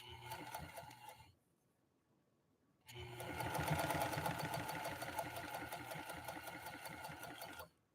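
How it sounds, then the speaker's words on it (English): A 1955 Pfaff 230 sewing machine runs a straight stitch through vinyl, with a steady, close, loud mechanical whir. It runs for about a second, goes quiet, then resumes longer and stronger, with no talking. "So let's do the straight stitch first, and then we'll try laying down a zigzag next to it."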